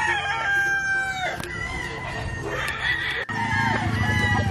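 A purebred Basilan (Jolojano) native rooster crows repeatedly on a free-range farm, with chickens clucking around it, loud and close, and a busy layer of farmyard calls filling the background.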